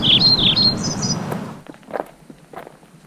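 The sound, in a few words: birds singing in trees on Ilaló volcano trail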